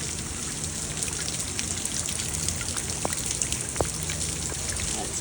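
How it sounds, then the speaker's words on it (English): A gutter dripping after Hurricane Debby, with steady fine rain-like patter and a few sharper, louder drops landing close by against a constant wet background, no voices. "That gutter's got some drip."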